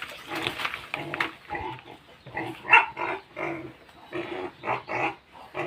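Pigs on a farm grunt and snort in a steady run of close, overlapping calls, with one sharper squeal-like burst near the middle and no talking.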